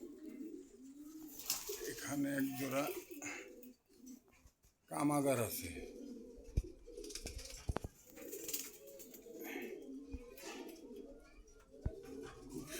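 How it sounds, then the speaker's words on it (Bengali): Pigeons coo repeatedly at a busy Dhaka bird market, their soft throaty calls close and overlapping while people talk nearby and market clatter rises and falls around them. "খুব সুন্দর কবুতরগুলি"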